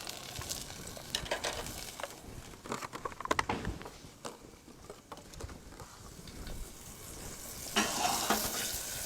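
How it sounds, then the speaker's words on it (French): A knob of butter melts and foams in a hot pan with a little oil, heard as a soft, uneven sizzle with scattered light crackles and stirring, faint and close, rising slightly near the end. "On va mettre une belle noix de beurre pour faire caraméliser les oignons."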